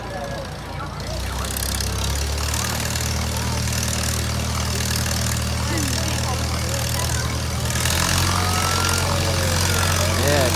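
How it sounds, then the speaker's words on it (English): A tractor engine runs fast at the Knoebels amusement park, a steady, loud, low droning hum that rises slightly in pitch, with people talking over it. "That tractor engine going fast."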